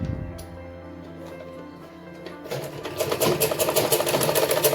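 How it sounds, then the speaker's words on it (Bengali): Sewing machine double-stitching the top of a salwar, starting with a low hum and then running fast in a loud, rapid rhythmic chatter, with no talking. "এই উপর ভাগটাও আমি ডবল সেলাই করে দেবো"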